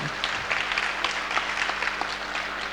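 A crowd at a rally in Tirupati claps steadily and enthusiastically, dense overlapping applause continuing throughout without a break.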